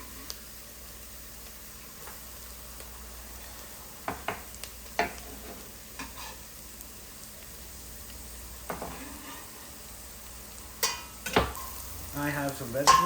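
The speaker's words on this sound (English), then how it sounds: "I'm going to add my garlic and we're going to saute that for 2 minutes." Garlic sauteing with onions in a pan gives a soft, steady sizzle and hiss, broken by scattered clicks and scrapes of stirring, close but fairly quiet.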